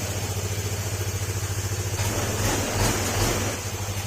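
A motorcycle engine, repaired after a loose crankshaft fault, idles steadily up close, a smooth even rumble with a slight rise in revs partway through.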